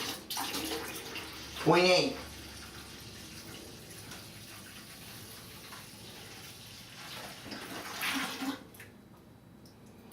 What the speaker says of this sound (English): I'm just going to pour that water in there.